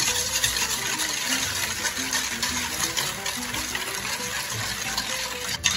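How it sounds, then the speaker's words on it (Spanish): Hot milk with dry gelatin ingredients poured into a container, a steady close gush of liquid running continuously, with no talking. "Ya tenemos aquí la leche caliente, agregamos nuestros ingredientes secos y vamos vaciando."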